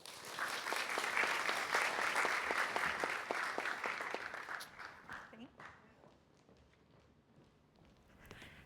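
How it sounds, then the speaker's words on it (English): An audience claps for a speaker at a social media conference, dense and loud for about four seconds, then thinning into scattered claps and fading out. "So give a round of applause for Lauren."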